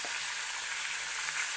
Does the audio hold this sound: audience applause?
no